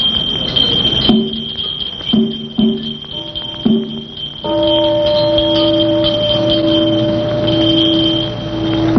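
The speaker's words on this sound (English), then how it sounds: "charmed by the tinkling of wind bells, an atmosphere of serenity prevails" Wind bells tinkling at a Thai temple, sustained ringing metallic tones with several bright strikes early on and a steady hum beneath, sounding slightly distant, with no talking.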